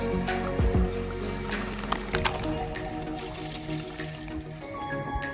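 Water gathered from a mountain stream at a trail stop on the Appalachian Trail, a steady trickling and filling sound running throughout, fairly close, with scattered handling noises.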